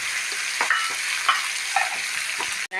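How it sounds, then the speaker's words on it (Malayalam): Curry leaves and a crushed spice sizzle in hot oil in a pan for an okra thoran, a steady close crackle broken by a few soft stirring scrapes and a sharp clack near the end. "വേപ്പില്ല ഇതൊക്കെ നന്നായിട്ട് ഫ്രൈ ആവട്ടെ"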